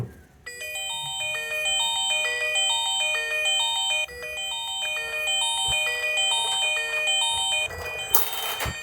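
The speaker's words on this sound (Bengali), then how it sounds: "ফোনটির রিংটোনের যে সাউন্ড সেটা যদি আমরা একটু চেক করি চলুন দেখি যে ফোনটির রিংটোনের সাউন্ড কেমন ছিল" The built-in ringtone of a Titanic T130 keypad phone plays a bright, repeating electronic melody of chiming beeps. It loops steadily and loudly at close range and ends with a brief hissy burst.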